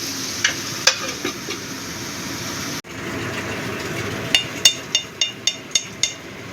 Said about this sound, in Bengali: এবার ছানাটাকে একটু ভেজে নেব।